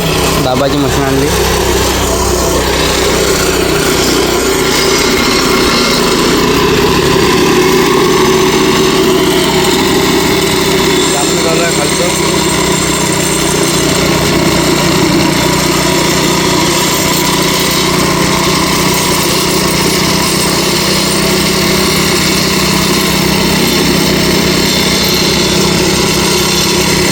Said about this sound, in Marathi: पाहू शकता तुम्ही दाबाची मशीन आणली